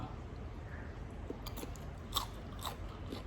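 Crunchy sugar-coated fruit is bitten and chewed close up, making several faint, crisp crunches over a low background hum.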